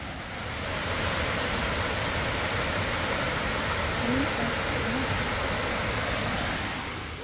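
Steady rushing water of an artificial waterfall roars continuously, a broad even wash of noise with no breaks, loud and close.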